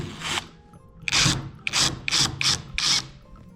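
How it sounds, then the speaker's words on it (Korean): Screws on the back of a Samsung Agasarang washing machine are worked loose, giving a series of close, rhythmic rasping scrapes, about five in quick succession after an opening one. "이제 후면부 나사 2개씩을 풀어주겠습니다"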